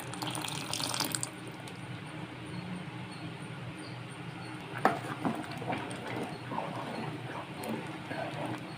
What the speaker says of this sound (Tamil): இந்த புளி தண்ணி இப்போ சேர்த்துக்கலாம்